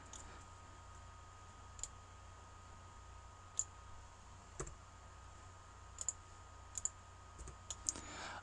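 Computer mouse clicks while a player controls a team of characters in a multiboxing game: a handful of sharp, faint clicks spaced irregularly, some in quick pairs, over a low steady hum with no talk.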